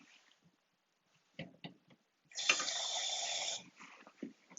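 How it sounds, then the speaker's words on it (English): Plain water is poured into a blender jar in a steady gushing stream lasting just over a second, preceded and followed by small clunks and handling noises in a quiet kitchen. "now to this, I'm going to add some normal water."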